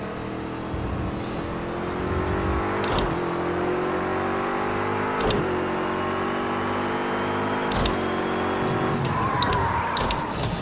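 A race car engine in Project Cars 2 drones at high revs, rising and falling steadily, with brief gear-shift dips and no talking.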